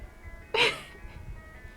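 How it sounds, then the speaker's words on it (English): An ice cream truck passes outside a window, its tune rising in a short, loud burst from outside and then fading back into a low background hum. "Why is this ice cream truck getting louder?"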